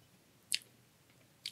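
Two short, crisp crunches of Doritos 3D puffed corn snacks being bitten, close and distinct, with a quiet pause between them and no talking.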